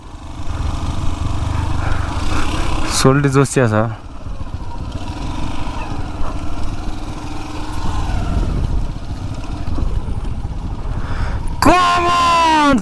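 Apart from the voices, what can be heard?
motorbike ridden through the jungle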